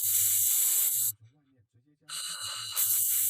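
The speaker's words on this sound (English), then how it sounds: "he uses the laser welder to completely fill those 3 mounting bosses from the inside out" Laser welder backfilling three hollow mounting bosses on a cast aluminum valve cover from a classic Datsun Z, giving a loud, steady broadband hiss in two long bursts separated by a quiet pause with faint low hum.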